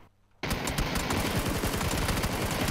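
A SCAR assault rifle firing in PUBG, a sudden sustained loud burst of rapid automatic fire after a brief quiet moment, continuing steadily to the end.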